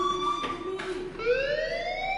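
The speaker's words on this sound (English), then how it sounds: "Hey, do you hear that fire alarm?" A fire alarm in the Life Is Strange video game, a steady electronic tone that wavers and then climbs into a rising wail, heard alone and fairly loud.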